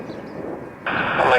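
Jet engine noise from an Omega Tanker Boeing 707-300C at Riverside airport, a broad roar that suddenly swells and brightens partway through, heard beneath radio chatter.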